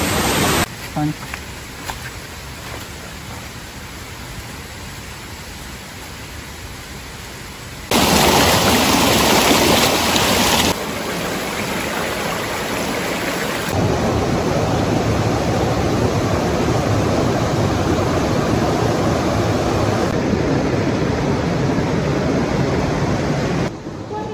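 River water rushes steadily in a river trekking setting at Mt. Kiadangat in Maria Aurora, Aurora, a loud broadband wash that surges louder midway, with no talking over it.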